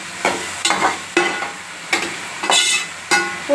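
Tomatoes for a mutton gravy fry in a pan, giving a close sizzle broken by about six sharp scraping strokes of a stirring spoon, with no speech.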